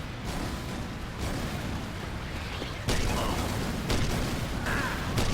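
Repeated dull booming blasts from explosions in Left 4 Dead 2, several in a row over a continuous rumbling background, loud and close.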